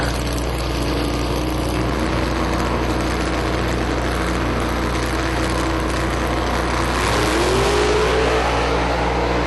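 Loud, continuous engine roar of outlaw drag racing cars accelerating hard, a dense mechanical drone with rising whine toward the end, no voices.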